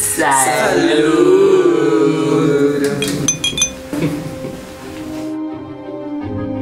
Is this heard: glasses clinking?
yes